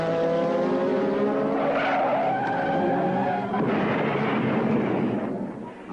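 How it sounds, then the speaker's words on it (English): A McLaren Formula 1 car crashing at about 150 mph at the 1981 Italian Grand Prix: a loud, sustained roar of engine and skidding tires with a sweeping pitch, then a harsh impact-like burst, heard close with no talk. "After this 150-mile-an-hour crash at the 1981 Italian Grand Prix"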